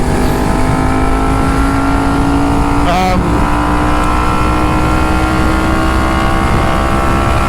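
Car engine in a steady drone that slowly rises in pitch as the car accelerates, loud and close throughout with a brief whoosh partway through.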